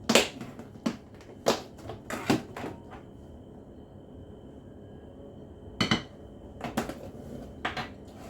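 A spoon mixing Jammie Dodger biscuit dough in a bowl, giving irregular sharp taps and scrapes in short clusters with a quiet stretch in the middle.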